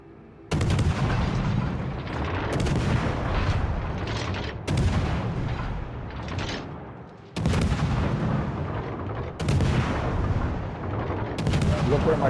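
Battleship main guns fire in World of Warships Legends in heavy, booming salvos, about five loud blasts each trailing into a rumbling decay, with game voice lines faintly underneath.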